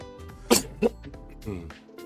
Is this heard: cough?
yes